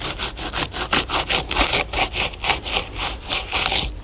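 A knife slices the skin off a fish fillet with rapid, rhythmic scraping strokes, about a dozen even back-and-forth passes, close and fairly loud with no talking.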